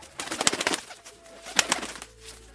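A small colorful bird in a narrated fantasy story chirps loudly in quick fluttering bursts, two clusters of busy calls close up, with no voice over them.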